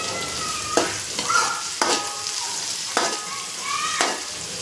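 Sliced onions fry in hot oil in a pan while a spoon stirs them, the soft steady sizzle broken by about five sharp scraping strokes at roughly one-second intervals.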